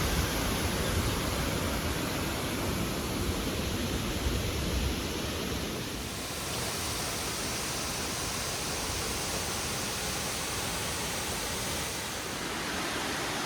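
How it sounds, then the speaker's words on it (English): Waterfall beside the trails of the upper lakes, a steady broadband rush of falling water that holds evenly throughout, loud and close, with a slight drop in level about halfway through and no voices. "look at this incredible waterfall along the way."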